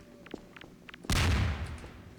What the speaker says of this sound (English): Watch out for that grenade.